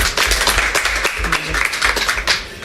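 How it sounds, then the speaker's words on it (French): An audience applauds, a dense patter of many hands clapping together that holds steady for a few seconds, fairly close and loud, then fades slightly at the end. "Oui, on peut applaudir."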